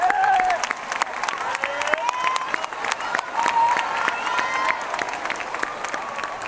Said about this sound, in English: How about another round of applause for our 8th grade chorus?